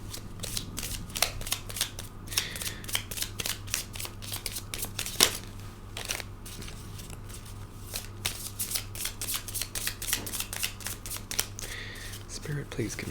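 Tarot cards are shuffled by hand at close range, producing rapid papery riffles and slaps in irregular bursts over a steady faint background hum.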